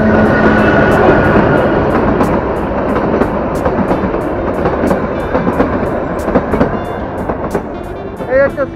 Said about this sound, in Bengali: এই হচ্ছে সিমলা টয় ট্রেন